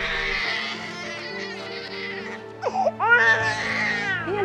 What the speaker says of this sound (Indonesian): Kok ada suara bayi ya?